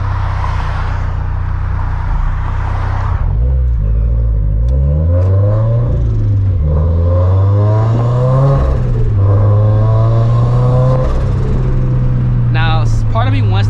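A Scion FR-S with a Greddy turbo revs up repeatedly on a dyno, loud and raspy with rising and falling engine pitch; a brief sharp whine comes at the end.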